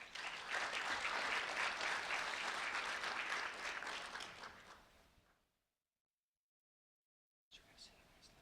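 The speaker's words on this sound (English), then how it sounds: "A round of applause for Tadarius, please." A gathering applauds a high school freshman who led the Pledge of Allegiance. Brisk clapping holds for about four seconds, tapers away into silence, and a little faint sound returns afterward.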